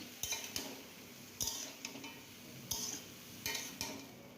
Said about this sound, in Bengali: এবার সবজিগুলো খুব ভালো করে আমি নেড়ে চেড়ে নিচ্ছি